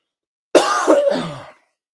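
A single harsh cough, close and loud, breaks a moment of silence and lasts about a second.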